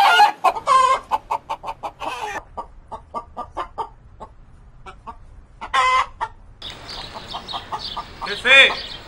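A loose hen clucks loudly in quick rhythmic runs, broken by a few sharp squawks and short pauses, close by and lively.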